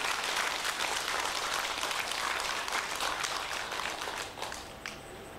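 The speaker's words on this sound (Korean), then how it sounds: "그렇게 하겠다고 맹세하는 의미에서 박수를 한번 쳐봐요." A crowd at a Buddhist temple dharma assembly claps together in a thick, even burst of applause that holds steady, then thins and fades out near the end, with no speech over it.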